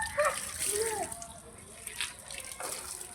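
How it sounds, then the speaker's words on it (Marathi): Water is sprayed onto a scooter to wash it, a soft splashing and hissing spatter in short bursts, fairly quiet and close, with faint voices nearby. "त्यानंतर आपण आपल्या गाडीवर पाणी मारून घेऊया"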